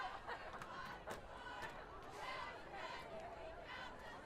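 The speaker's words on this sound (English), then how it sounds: "Invigorated Pioneer crowd here." High school football crowd in the stands at a Pioneer home game, a distant murmur of cheers and chatter with a few sharp bursts, fairly faint and continuous.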